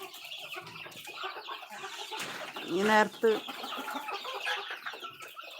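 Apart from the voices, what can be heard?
chickens clucking in a coop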